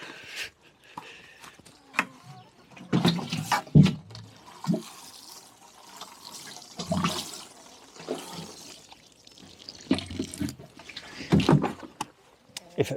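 Water is poured over plants on an allotment, coming in a few short splashing bursts with quieter gaps between them and no talk.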